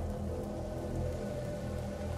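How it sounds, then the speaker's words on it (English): Steady rain falls in the video game A Plague Tale: Innocence, a dense, even patter on surfaces with no voices and no break in the sound. "Lucas, Hugo, stay out of the rain."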